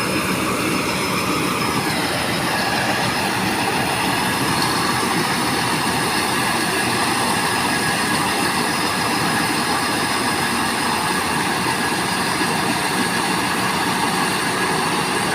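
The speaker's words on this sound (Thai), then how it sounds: "พอหมดแล้วอ่ะเนี่ยเสียงอย่างนี้ก็ข้าวใกล้หมดในอุ้มแล้วครับ" Continuous loud machinery roar from a combine harvester unloading rice, with a dense rattling hiss, a pitch dropping early on as the grain tank nears empty, then a steady grinding drone of grain pouring out.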